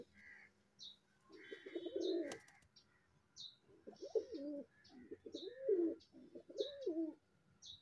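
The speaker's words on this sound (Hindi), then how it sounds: "ये कबूतर जी नर है," A male desi pigeon coos in repeated low rolling phrases, close and clear, with a few higher chirps from other birds in the background.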